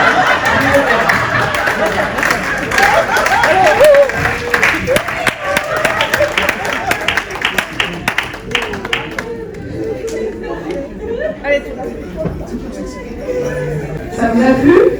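Applause and crowd chatter from an audience at the end of a trainee stage show, dense clapping through the first half, then thinning out with scattered claps and voices.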